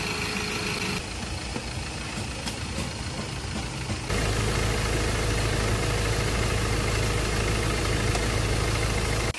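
A Ford Ranger engine idles after a misfire repair, a steady close mechanical hum that rises to a fuller, louder rumble partway through and then holds even, with no talking.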